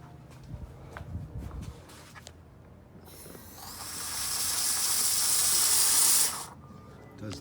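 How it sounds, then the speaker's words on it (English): A steam cleaner blasts the engine bay of a 2006 Lincoln Town Car, building into a loud, sharp hiss that holds for about three seconds before cutting off, after a few low knocks and rumbles. "I'm going to use my steam cleaner that's charging up right there"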